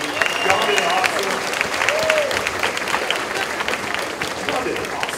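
Audience applause at an annual meeting, a dense, continuous clatter of many hands filling the whole stretch, with a voice speaking over the clapping.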